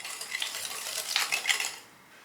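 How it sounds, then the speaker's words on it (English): A whisk beats buttermilk and instant French vanilla pudding mix in a bowl, giving quick scraping, clinking strokes with a few brighter taps, moderately close, before stopping abruptly into near silence. "We're going to whisk these together until combined."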